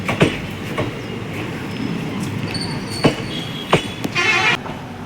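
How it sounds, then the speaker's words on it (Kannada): A passenger train heads toward Hassan. A close rumble runs throughout, with sharp rhythmic wheel clicks and a brief squealing toot near the end. "ಹಾಸನ್ಗೆ ಹೋಗ್ತಾ ಇದೆ ಟ್ರೈನ್."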